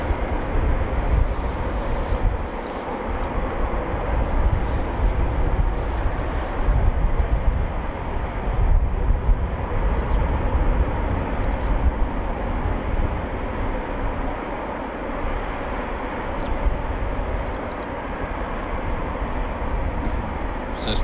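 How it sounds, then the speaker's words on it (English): Eurofighter Typhoon FGR4 jet engines run at an RAF quick reaction alert station, a steady broadband roar heard at a distance, mixed with wind buffeting the microphone and continuous throughout. "you can hear the sweet sound of Typhoons running"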